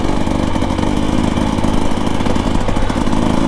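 A Husqvarna TE 300 Heritage edition dirt bike engine running at a steady rough idle, loud and close, with a dense buzzing two-stroke rattle and no talking.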